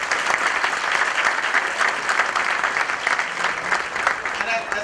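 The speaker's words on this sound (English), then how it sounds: "Please give a big round of applause for that." A large audience gives a loud, continuous round of applause at a corporate product launch event, dense clapping sustained throughout with possible voices in the mix.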